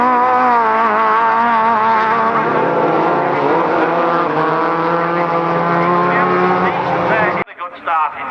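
Rallycross race cars at the British RallyCross GP at Croft scream past at full revs, their engine whine wavering and climbing loudly for several seconds before cutting off sharply, with a voice audible beneath.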